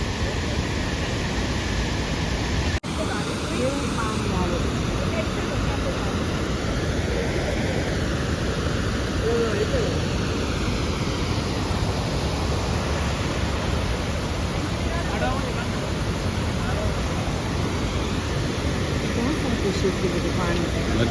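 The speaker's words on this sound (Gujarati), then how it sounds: "કાન પડ્યું ન સંભળાય એટલો ધોધનો અવાજ આવે છે પાણીનો" Roaring water of Gira waterfall fills the air with a steady, dense, unbroken rush, loud and close throughout with no pause.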